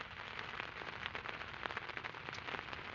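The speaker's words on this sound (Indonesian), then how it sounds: "Tungguan hujan kieu mah." Rain falling outdoors at a fishing spot in West Java, a faint, dense patter of drops with scattered sharper taps across the whole stretch.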